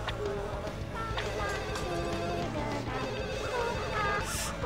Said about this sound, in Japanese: あ、電話鳴った。